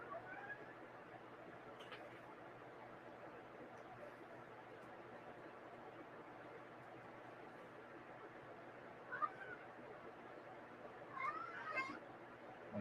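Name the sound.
cat meowing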